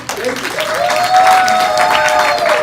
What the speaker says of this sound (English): I want to give some applause out to the mental health department.